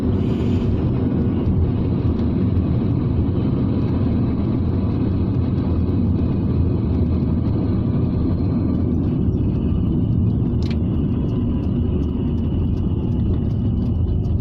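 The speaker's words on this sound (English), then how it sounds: "I can hear the gearbox making all manner of noises" A Rover 600ti turbo on the road, its engine and drivetrain rumbling steadily from inside the cabin with road noise, any gearbox whine buried in a continuous low, loud drone with no talk.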